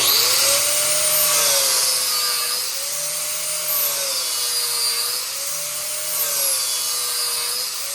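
A blade-sharpening grinder, much like a bench grinder, runs with a steady, loud abrasive whine whose pitch slowly wavers up and down, as if a blade is being passed back and forth against it, with no voices.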